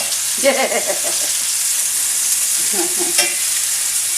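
Beef for stroganoff sizzles steadily in a frying pan, a close and continuous hiss broken by a couple of brief stirring scrapes, with no talk.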